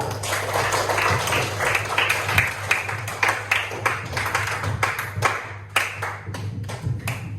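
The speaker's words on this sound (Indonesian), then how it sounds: "Tepuk tangan untuk kelompok 1." Classroom students clapping for a presenting group, a dense, steady patter of many hands that holds for several seconds and thins out toward the end, with faint voices underneath.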